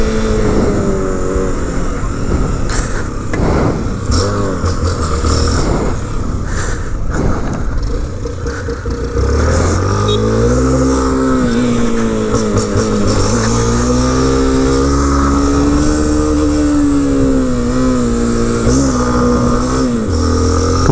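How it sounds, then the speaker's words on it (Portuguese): Motorcycle engine revving loudly and continuously, climbing and dropping in pitch as it works through the gears, close by, with a brief dip before the revs rise again. "Perdido nas marchas essa moto."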